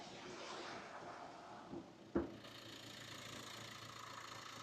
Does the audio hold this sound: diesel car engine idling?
yes